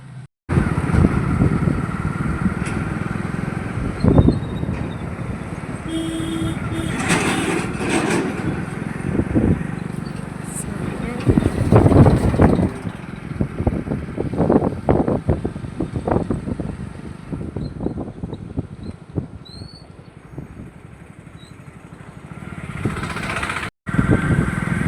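A motorcycle ride with a steady engine drone and heavy wind buffeting across the whole stretch, the engine note rising and falling with speed, loud and close, with no talking.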